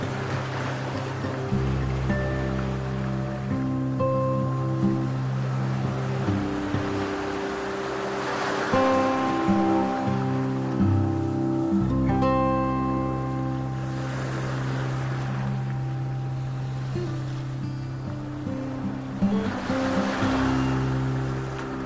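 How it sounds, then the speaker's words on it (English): Sea waves wash against sand dunes on a coastline in slow, swelling surges every few seconds, heard beneath sustained droning musical tones. "The sound of the sea against the sand dunes."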